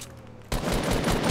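Automatic rifle fire in a Fortnite Battle Royale match, a sudden rapid burst that starts halfway through and keeps up as a dense, loud volley after a quieter lead-in.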